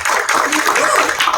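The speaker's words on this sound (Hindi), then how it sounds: "पार्थ भाई के लिए जोरदार तालियां हो जाए प्लीज" An audience at a film trailer launch event claps for the movie's editor Parth, a loud, steady, dense patter of many hands filling the room.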